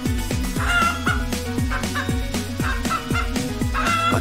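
A Play-Doh craft chicken gives a quick string of rhythmic, cartoonish clucks, about a dozen evenly spaced bursts over a steady musical backing, loud and close.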